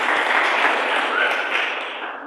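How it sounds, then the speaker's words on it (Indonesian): A church congregation claps together during a lively sermon, a short, dense, steady burst of loud clapping filling the room. "Tepuk tangan untuk Tuhan."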